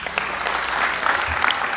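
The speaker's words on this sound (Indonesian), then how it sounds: "Tepuk tangan dong." Applause from a gathered crowd at a Bali village youth lawar cooking event, steady close clapping throughout with a few louder claps and faint voices mixed in.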